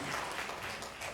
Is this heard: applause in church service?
yes